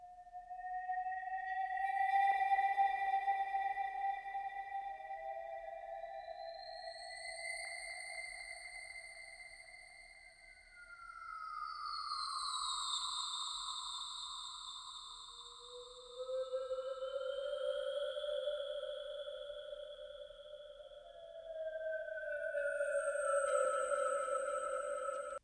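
Psytrance atmosphere synth pad: thin, high gliding tones that sweep and step between pitches, layered and airy, fairly quiet and alone with no voices or beat, swelling and fading in waves.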